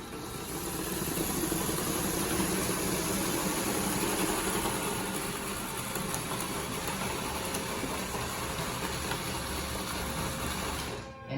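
A Lego Technic tank's small electric motor drives it along, giving a steady whirring hum with faint mechanical rattle, nearly uninterrupted and fairly quiet, then stopping abruptly at the end.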